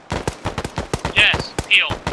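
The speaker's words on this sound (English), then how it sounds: "Commence fire." Gunfire at a shooting training session: rapid, loud shots crack out in a quick, uneven string at close range, with brief voices breaking in between them.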